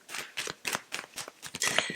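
Tarot cards being shuffled by hand, a close, crisp series of quick riffling bursts in an uneven rhythm over a couple of seconds.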